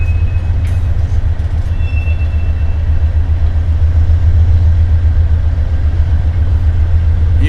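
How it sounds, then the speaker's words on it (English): A train rumbles out the south end of a rail yard out of sight, a steady low drone of engine and rolling wagons holding at moderate distance throughout. "we have a train going out the south end"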